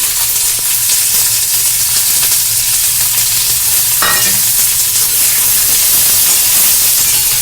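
Chopped onions sizzle in hot oil as they are stirred, giving a loud, continuous frying hiss with a brief scrape of the utensil partway through.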